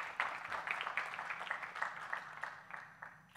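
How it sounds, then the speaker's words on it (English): Conference audience clapping for a first-time speaker at a technical event, a fairly faint, steady patter of many hands that gradually tapers off, with no voices over it. "if you guys could give him a round of applause before he starts"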